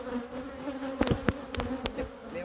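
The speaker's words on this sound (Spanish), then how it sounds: "A cepillar a las abejas." Honeybees buzzing steadily at close range while being brushed off a hive frame during a honey harvest, a continuous droning hum with a few sharper brushing swishes.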